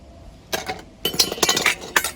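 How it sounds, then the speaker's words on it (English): Glass clinks and ice-rattling taps from a fino sherry drink being stirred in a highball glass, coming in quick close bursts with brief pauses between them. "all we're going to do is stir it and go straight into the highball"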